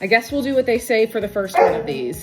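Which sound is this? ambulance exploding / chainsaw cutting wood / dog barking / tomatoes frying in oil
dog barking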